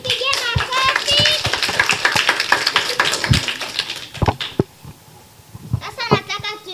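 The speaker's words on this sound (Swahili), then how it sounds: "Tumpigie makofi." A group of children claps for a child during a live children's program, giving a rapid, uneven burst of hand claps mixed with children's voices, then a short pause before more voices.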